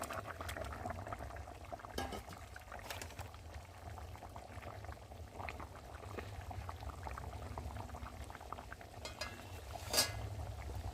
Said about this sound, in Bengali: আর এখন আমি মাছগুলো দিয়ে ভালো করে ফুটিয়ে নেব